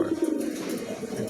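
Pigeons cooing in a loft of birds offered for sale, a steady low throaty coo running continuously and fairly close with no voices.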